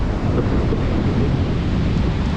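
Sea waves surge where the Godavari River meets the Bay of Bengal at Antarvedi near a lighthouse after heavy rain, a loud, continuous rushing roar mixed with heavy wind buffeting the microphone.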